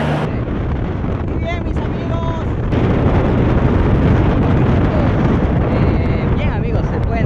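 Steady, loud wind roar buffets the microphone while riding a motorcycle along a road near Santo Domingo, a continuous rushing noise throughout with faint engine tones underneath.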